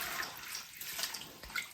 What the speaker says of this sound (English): Washing the wild garlic.